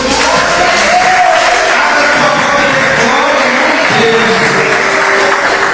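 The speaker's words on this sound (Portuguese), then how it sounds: "Aplauda hoje." A church congregation applauds during a worship service, a dense, steady wash of clapping with crowd voices and cheers mixed in, loud and continuous throughout.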